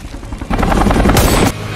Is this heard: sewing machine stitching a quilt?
no